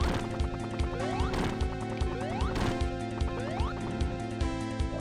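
Sonic and Knuckles game audio played on keyboard: busy electronic music with rising sweep effects and crashing hits repeating in a fast, dense loop.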